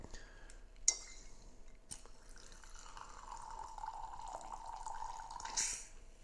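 Wine trickles in a thin, quiet stream through a Coravin preserver needle into a glass, with a faint clink at the start and a soft hiss of gas near the end.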